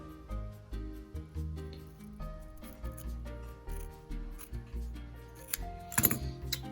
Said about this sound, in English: So I'm going to cut a little bit off of this.